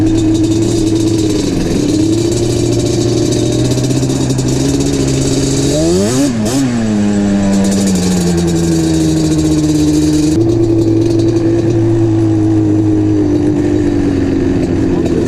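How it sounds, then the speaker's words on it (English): A Yamaha Banshee ATV engine running loud and close as it is parked, idling steadily, then revving up sharply in a rising and falling sweep before settling back to a rough two-stroke idle. "Park the Banshee right here next to the Mazda"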